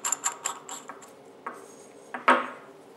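A metal bottom switch cap being threaded onto a flashlight body, a quick series of light metallic clicks and scrapes close up, ending in a sharper clink.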